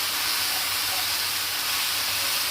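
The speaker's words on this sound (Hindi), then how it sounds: "पाँच से 10 मिनट हो गए इसको हमें भूनते हैं।" Bhindi frying in a pan over a medium flame after several minutes of cooking, giving a continuous, fairly loud, bright hiss of sizzling oil that stays even throughout.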